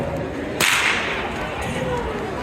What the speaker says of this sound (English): a bull whip